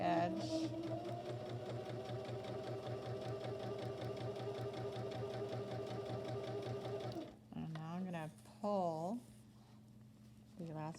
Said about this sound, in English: the sewing machine, and you're going to start sewing